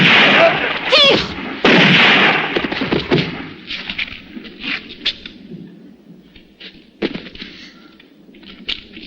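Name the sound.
gunfire in a western film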